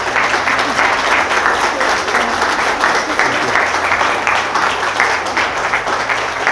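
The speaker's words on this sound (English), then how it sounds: "Give a massive round of applause for our mums." Wedding guests applaud loudly and steadily, a dense wash of clapping filling the room without letup.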